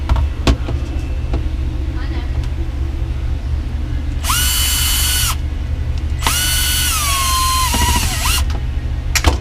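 A power tool drives steering-wheel bolts during a Honda Civic Type-R steering wheel install: two high whirring bursts, the first short and the second longer with its pitch sagging, over quiet shop background.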